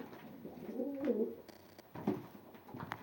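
Pigeons coo close by, a soft throaty rolling call followed by a shorter second coo, with faint rustles and clicks around them and no speech.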